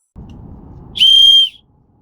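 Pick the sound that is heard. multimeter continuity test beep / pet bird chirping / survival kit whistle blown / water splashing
survival kit whistle blown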